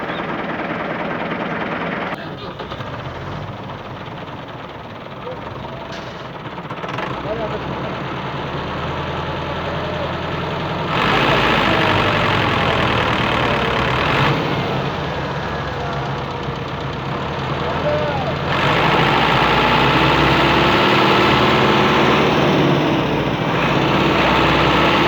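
A Massey Ferguson 260 tractor engine labours steadily under heavy load while hauling a potato-laden trailer stuck in the ground, a loud continuous rumble that swells louder in stages, with no talk over it.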